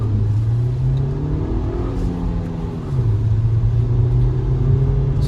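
A 2023 Verna's 1.5 liter MPI engine hums and rises in pitch as it accelerates with traction control off, drops briefly on a gear change, then climbs again, steady and close.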